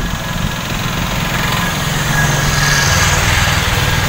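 A tuk-tuk's small engine runs steadily at idle in Nairobi, giving off an even, buzzing drone with a low rattle throughout and no voices.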